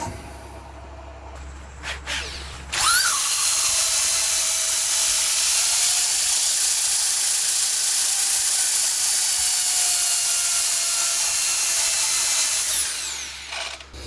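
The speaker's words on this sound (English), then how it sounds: "Let's quickly sand that up." A power sander works an offcut cake stand made of oak, cherry and ash, starting with a loud, steady, high-pitched whine. It holds for about ten seconds, then winds down, with quieter workshop noise before and after.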